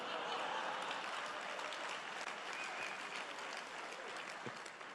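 A large conference audience at a political speech bursts into sustained applause and cheering, a dense wash of clapping that fills the whole stretch and slowly tapers toward the end.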